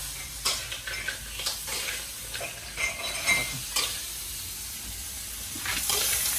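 Crab stir-fried with lemongrass in a pan, with quiet sizzling under repeated scraping and clacking stirring strokes, irregular and close.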